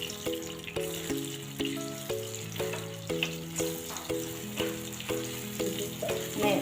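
Ground moong dal mixture fries in oil for khasta kachori filling, a soft steady sizzle under rhythmic scraping strokes of a spoon stirring the pan, with quiet music playing along.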